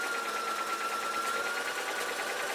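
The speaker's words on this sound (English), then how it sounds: "just back tack a few times, just basically stitch right along the whole belt loop" Sewing machine running steadily at close range, back tacking and then stitching along a denim belt loop on a pair of jeans, a continuous fast mechanical whirr with no pauses.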